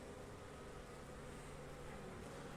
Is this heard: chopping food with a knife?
no